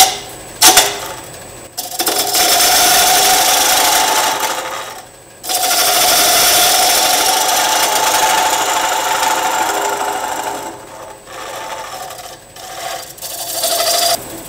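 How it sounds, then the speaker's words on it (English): A bowl gouge with a traditional grind cuts a small bowl on a wood lathe spinning at about 800 RPM, giving a steady, loud scraping hiss with brief pauses and a slight vibration. "I'm going to take a little bowl gouge with a traditional grind on it. Kind of clean this up right in here."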